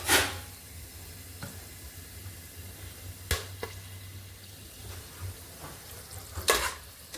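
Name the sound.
whole spices frying in oil on low heat for biryani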